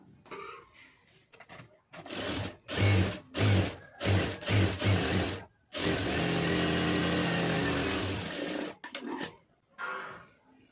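A sewing machine stitches a blouse lining in short repeated bursts, then one long steady run of rapid mechanical whirring, close and loud, with quiet pauses between.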